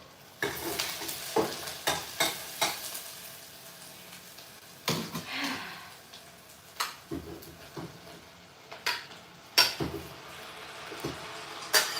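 Onions and tomatoes sizzle in palm oil in a pan while a utensil stirs and scrapes in repeated clattering strokes, close and moderately quiet over a soft frying hiss.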